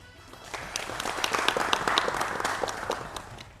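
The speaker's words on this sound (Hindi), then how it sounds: "इनके लिए तो खास तालियां बनती हैं" Studio audience applauding on a televised quiz show, a dense patter of many hands clapping that swells after a soft start and holds steady, moderately loud, with no talk over it.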